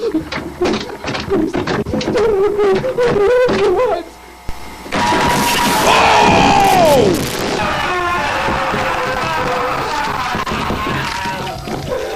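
Birds call inside a cave, tonal hoot-like notes and a falling whistle rising above a dense, echoing bed of chatter, loud and close, with a brief dip in the middle.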